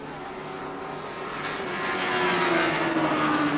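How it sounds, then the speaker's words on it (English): Racing motorcycles, Yamahas, Suzuki, Kawasaki and Honda, run at the Surfers Paradise 3 Hour race, making a steady engine drone that swells louder as the machines approach and pass, heard from a distance. "2 Yamahas leading from Suzuki, from Kawasaki, from another Yamaha, with the best placed Honda back in 7th place, Malcolm Campbell."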